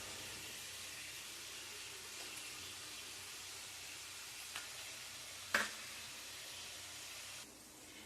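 Ridge gourd upma sizzling in a pan after salt is added, a steady soft frying hiss throughout with a brief stir or clatter near the middle, moderately quiet and without talk.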